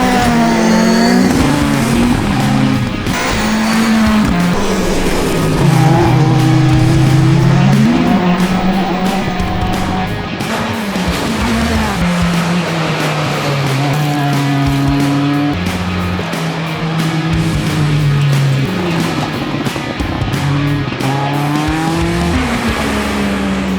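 Sebastien Loeb's 2018 Peugeot World Rallycross supercar is driven hard around a rallycross circuit. The engine is loud and constant from on board, its revs climbing and dropping through gear changes, with occasional tyre scrabble.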